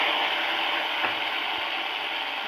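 Prawns fry in hot oil, giving a steady, dense, close sizzling hiss with no break.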